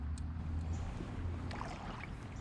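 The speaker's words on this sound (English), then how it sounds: "a big boat had just gone by and stirred up the water again" Low, steady engine rumble of a large boat passing on the water while fishing, with sloshing and lapping water over the top throughout.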